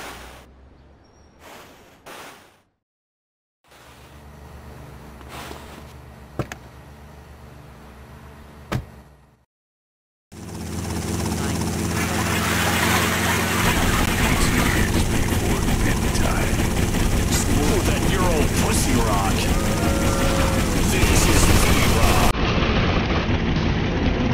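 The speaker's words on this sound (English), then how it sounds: "Take my copter." A helicopter in the video game GTA: Vice City Stories: after brief game dialogue and a pause, a loud, steady engine and rotor roar sets in and fills the rest of the scene.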